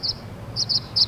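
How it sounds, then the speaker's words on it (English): Birds chirp outdoors in short high bursts, several quick calls repeating at moderate volume over a faint background hum. "there's birds everywhere"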